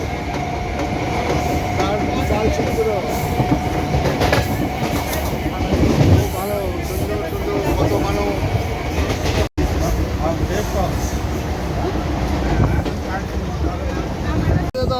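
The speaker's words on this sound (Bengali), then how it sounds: "এই হচ্ছে আমাদের লোকাল ট্রেন" A local train bound for Berhampore in Murshidabad runs on the rails with a loud, continuous rumble and rhythmic clickety-clack of wheels on the track, and people talk over the noise.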